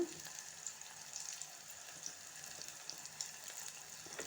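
Onions fry quietly in a curry pan, a steady low sizzle with faint scrapes and taps from stirring scattered throughout.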